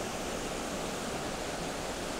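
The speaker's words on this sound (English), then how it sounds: "And then the waterfall's" Watkin Falls on Snowdon, a mountain waterfall roaring in a continuous broadband rush of falling water, steady and close with no voices.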